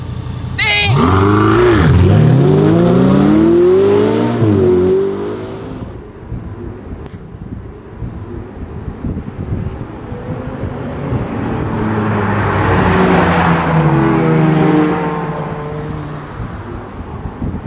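A Ferrari and an Audi R8 drag racing: one car revs hard and accelerates loudly up close, and after a lull a second loud engine surge and whoosh passes, with wind buffeting the microphone.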